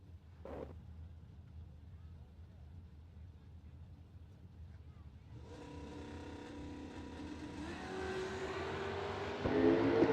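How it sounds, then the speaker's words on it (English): A 1999 Firebird drag racing car at a no-delay drag race, its engine building from a low idle into a loud, rising roar that swells and grows harsher toward the end, heard from a moderate distance. "The 99 Firebird."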